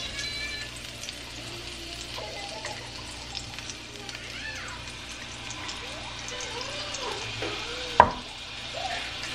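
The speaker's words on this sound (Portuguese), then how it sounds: "vou refogar aqui um pouquinho de alho" Garlic sautéing in a home-cooking pan, a steady soft sizzle running throughout at moderate level, with occasional stirring clinks and one sharp utensil knock near the end.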